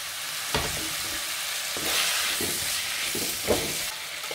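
Tomatoes frying in a pan, a constant bright sizzle with a few sharper bursts as they hit the oil or get stirred, close and steady with no talk.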